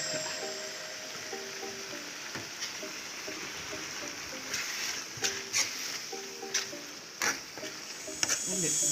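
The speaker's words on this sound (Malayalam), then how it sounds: "ഇതിൽ കുറച്ച് തേങ്ങ ചേർത്തിട്ട് നല്ലോണം ഇളക്കുക" Grated coconut stirred into masala in a pan for Masala Pathal: a soft scraping bed with scattered spoon clicks and taps that grow more frequent toward the end, over quiet background music.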